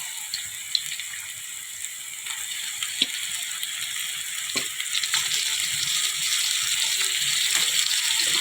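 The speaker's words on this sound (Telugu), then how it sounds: "ముందుగా కడిగి పెట్టుకున్న చికెన్ వేసుకుందామండి." Washed chicken pieces hit a hot pan for a chicken gravy fry, setting off a steady, bright frying sizzle that builds slightly louder over several seconds, with a few light clinks from utensils and no voices.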